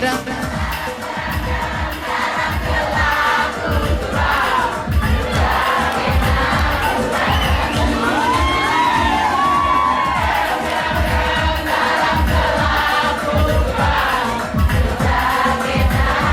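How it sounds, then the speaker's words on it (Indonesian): A large crowd at a village festival gathering cheers and shouts continuously, with whoops and children's voices mixed into a loud, dense roar that carries on throughout. "tepuk tangan"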